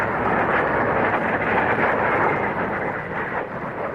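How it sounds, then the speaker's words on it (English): A loud, sustained roar from an English Electric Lightning jet fighter lighting its reheat, a dense broadband blast that holds steady for several seconds with a slight easing near the end. "It can do twice the speed of sound and shows off its reheat with a burst of power."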